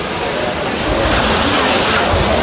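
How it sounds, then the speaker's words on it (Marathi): Monsoon waterfall at Khondane cave near Karjat roars as a loud, steady broadband rush of falling water, close and continuous throughout. "हा बघा धबधबा."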